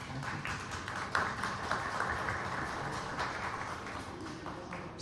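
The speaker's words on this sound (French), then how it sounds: "Je pense qu'on peut l'applaudir." An audience applauding after a talk at a public meeting, a steady wash of many hands clapping at an even level throughout, fairly soft and diffuse, with no voices.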